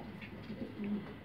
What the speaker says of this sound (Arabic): ده زغلول لسه ما طارش ومكمل اهو، لسه واقف على ايدي اهو